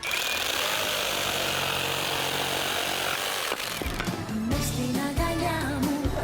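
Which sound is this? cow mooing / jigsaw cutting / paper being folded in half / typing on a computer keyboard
jigsaw cutting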